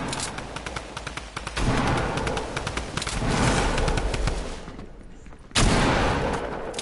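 Rapid video game gunfire crackles in dense bursts through much of the stretch, with a short lull before a sudden loud burst near the end.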